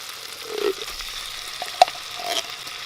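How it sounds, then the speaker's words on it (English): Canned cranberry sauce goes into melted butter in a pan for a glaze. A soft, close sizzle and bubbling come through with a sharp clink partway through, and nobody speaks. "Then I'm going to add 1 can of cranberry sauce."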